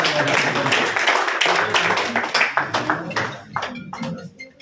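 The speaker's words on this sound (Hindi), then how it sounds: "जोरदार तालियां।" Applause from an audience at a village felicitation ceremony as a doctor on stage is garlanded and honoured, a dense burst of many hands that thins into scattered claps near the end, with faint voices underneath.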